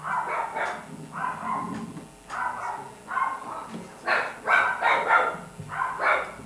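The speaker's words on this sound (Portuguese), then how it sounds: "os cachorros estão latindo muito" Several dogs bark repeatedly in short bursts at moderate distance, with bouts of overlapping barks across the whole stretch and no speech over them.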